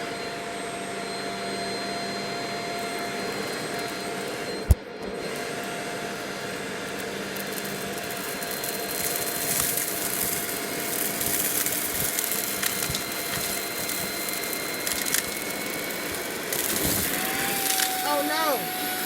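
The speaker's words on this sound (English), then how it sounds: "How serious this vacuum thing is." A Shark Rocket vacuum cleaner runs continuously indoors with a steady whining motor drone, a sharp click partway through and rattling, crunching pickup noises as it works across the floor.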